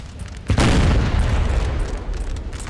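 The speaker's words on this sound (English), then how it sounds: "Yeah, that's canister shot." Canister shot artillery fire in Napoleon: Total War, a single heavy boom bursting out after a quiet moment and rolling off into a long rumbling decay.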